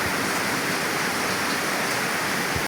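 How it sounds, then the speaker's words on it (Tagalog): Heavy nighttime rain pours in a continuous, dense hiss, loud and steady, cutting off abruptly at the end. "Malakas pa rin ulan."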